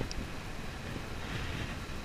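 Steady outdoor wind buffets the microphone during a fishing outing on the water, a continuous broadband rush with low rumble and no breaks, fairly loud and alone.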